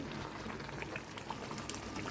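Chicken biryani gravy with meat pieces and a little added water boils in a pot, a dense, steady bubbling and popping that runs continuously and close by, with no voices.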